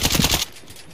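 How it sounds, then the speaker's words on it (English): Close, rapid burst of automatic gunfire from the player's own weapon in the video game Warzone, a dense volley lasting about half a second before cutting off abruptly into quiet background. "Oh, that's my gun."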